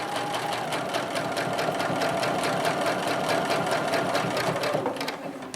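A sewing machine stitches a quilting grid design with fine silk thread, a loud, steady rapid mechanical clatter running continuously before easing slightly at the end.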